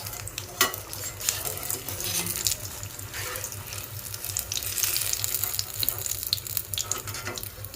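Potato masala bajji sizzle in hot oil while being stirred and turned, a steady crackling fry close by, with scraping and faint clinks from the utensil and no talk.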